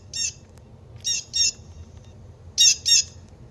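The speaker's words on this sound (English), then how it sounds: "And for blue jay, the most often heard is a loud cheer, and also makes clear whistled notes" Blue jay giving harsh, loud squawking calls: a single cry, then a pair, then another pair after a pause, close and distinct over a low background rumble.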